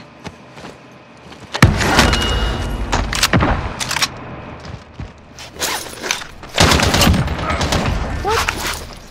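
Bursts of rapid gunfire in Call of Duty: Modern Warfare, with loud volleys and scattered single shots rising and falling around the player. Footsteps and movement sit between the bursts, along with some faint voice.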